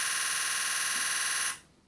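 A Nikon Z9 shutter fires a rapid burst at 20 frames per second in raw with full autofocus, a fast, even, buzzing rattle that lasts about a second and a half, then stops abruptly.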